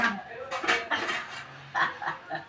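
Metal serving tongs clink against plates while spaghetti is served at an outdoor gathering of a walkers group, a few bright scattered clinks with people talking and laughing nearby.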